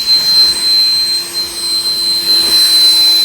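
A handheld car dryer blower pushing air over a washed ceramic-coated vehicle, a loud, steady whooshing roar with a faint whine, close and continuous with no talk.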